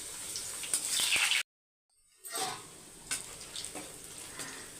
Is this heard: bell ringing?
no